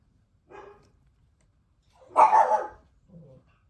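Dogs bark in a home as children return from school: a short bark, then a louder, fuller burst, then a small whimpering yip, all at moderate distance in otherwise quiet surroundings.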